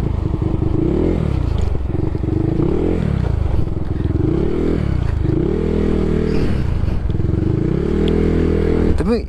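A bored-up Honda PCX 160 scooter engine drones loudly and close as it rides over a railway crossing, its pitch rising and dipping in repeated waves with bumps and clatter from the tracks.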